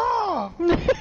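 A person's voice imitates a bird call during a Dauntless game session: one brief, loud, close cry with a falling, wavering pitch, then a short voiced chirp.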